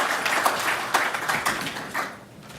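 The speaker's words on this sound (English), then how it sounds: "Please let's give him a round of applause." Audience applause at a ZANOG conference session during iWeek, a broad wash of many hands clapping with a few sharper individual claps, steady and fairly close, fading slightly toward the end.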